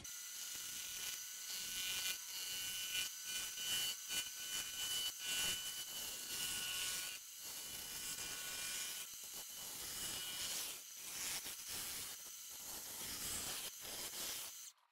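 A wood lathe rounds down a black limba blank, giving a continuous harsh, hissing tool-on-wood scrape with rhythmic chattering pulses as the gouge hits flat spots, steady and close.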